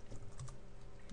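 Typing on a computer keyboard while writing Java code: a quick, steady run of soft key clicks, close and fairly quiet, with no talk.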